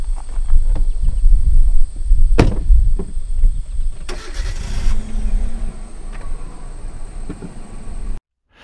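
A car engine rumbles close by and fills the low end, then shifts into a moving, whooshing pass that fades before cutting out. It plays alone, with no talk.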